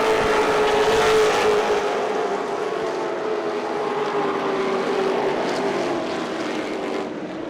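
Late model race cars run side by side at Irwindale Speedway, a loud steady engine roar with a slowly falling drone as the pack exits turn two, no voices over it.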